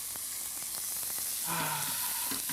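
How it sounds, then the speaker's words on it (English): Food sears in a hot pan with a continuous bright sizzling hiss and small crackles throughout, close and steady with no voices. "It's like the sound of family, the sound of a good time, a good experience, a braai, a sizzle, a grid."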